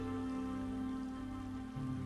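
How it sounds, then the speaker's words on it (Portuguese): Steady rain falls without pause, a dense, even patter that fills the whole stretch at moderate volume with no voices over it. "com esta chuva que cai sem parar"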